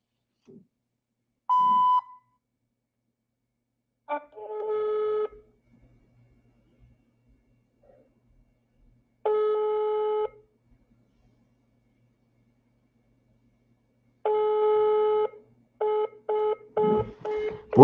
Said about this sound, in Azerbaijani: Təcili zəng eləməliyəm.